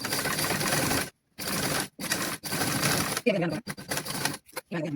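A sewing machine stitches fabric along marked dots in bursts of rapid whirring, stopping briefly between runs, with someone talking during the later pauses.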